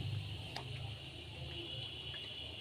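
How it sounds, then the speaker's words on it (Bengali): Semolina milk puli dumplings drop one by one into boiling milk, with a soft splash near the start over a faint, steady bubbling simmer. "এবার একে একে সব পুলিগুলো দিয়ে দিচ্ছি।"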